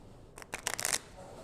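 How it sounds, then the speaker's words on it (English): Playing cards riffle-shuffled during a magic show at a brewery in Fredericton, New Brunswick: a quick, close, crisp run of fluttering card snaps lasting about half a second, rising in density before stopping cleanly. "this one's a riffle shuffle"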